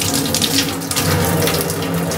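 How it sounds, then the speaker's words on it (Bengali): Water from a kitchen tap runs steadily and loudly into a sink as fruit is rinsed under it, a continuous close splashing rush with no pauses. "এখানে আমার পতিদেব একটু ফলটা ধুয়ে দিচ্ছে"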